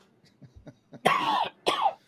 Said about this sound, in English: Make me cough.